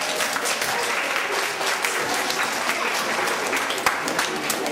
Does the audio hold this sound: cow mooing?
no